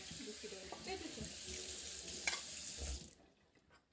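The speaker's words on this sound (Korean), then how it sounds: "그래서 이거를 체에다 받치세요. 왜? 물 양을 잡아야 되니까 체에다 다 이렇게 물기를 빼주세요." Rinsed, salted vegetables drain through a kitchen sieve, a steady trickle and patter of water with small clinks, fading out toward the end.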